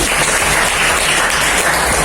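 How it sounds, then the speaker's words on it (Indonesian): Dense, loud applause from a class in a school lesson, steady and continuous throughout with no speech over it. "Saya memberikan aplaus untuk Hani"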